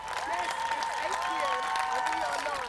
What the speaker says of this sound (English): Britons once again came together to clap for their carers